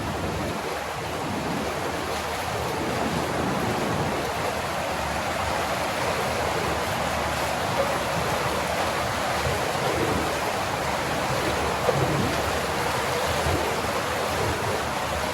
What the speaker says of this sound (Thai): นี่เราให้ดูนะบรรยากาศข้างในเนี่ยน้ำเนี่ยแรงมากเลย